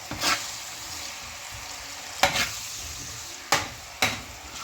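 Tomatoes tossed into hot oil sizzle steadily in a pan, a constant frying hiss broken by three or four sharp stirring scrapes, close and moderately loud with no voices.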